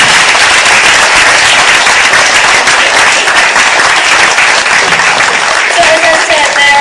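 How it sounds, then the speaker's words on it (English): Loud audience applause fills a talk-and-panel event on escaping information control, dense steady clapping from a crowd, with a voice speaking over it near the end. "Give them a big applause, please"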